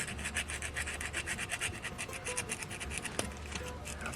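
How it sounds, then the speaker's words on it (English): Sandpaper rubs back and forth on a car's fuel gauge electrical contact in fast, steady strokes, close but faint, a dry rasping scratch that keeps going for several seconds. "So I'm just gonna blindly sand this contact behind here."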